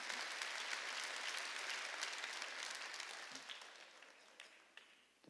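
During a Sunday church service, a congregation fills the room with sustained applause that starts full and then gradually thins and fades.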